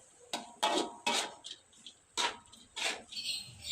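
Papaya flowers, papaya leaves and fried anchovies stir-fried in a pan, with a spatula scraping and clinking against the metal in about six bursts of irregular, fairly close strokes, separated by brief quiet gaps and no talking.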